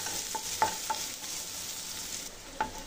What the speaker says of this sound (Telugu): ఈ ఆనియన్స్ని బాగా కలుపుకొని గోల్డెన్ కలర్ వచ్చేంత వరకు